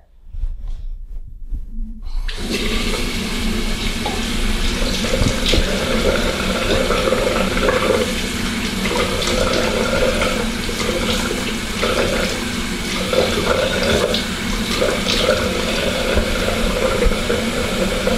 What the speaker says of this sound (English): we're going to turn our warm water back on, and you can use either a washcloth or our hands